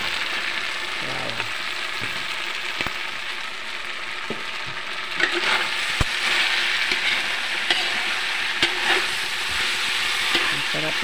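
Sliced pork belly (liempo) sizzles steadily in a pan while being stirred, with a continuous broadband hiss broken by occasional scraping clicks of the utensil, close and moderately loud with no talking.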